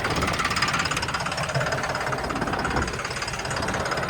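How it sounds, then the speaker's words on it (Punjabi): A tractor engine runs hard while spraying a wheat field, a loud, steady diesel clatter with a knocking vibration that carries through the whole clip. "ਉਹ ਟਰੈਕਟਰ ਫੇਰ ਉਧਰ ਦਾ ਜਾਂਦਾ"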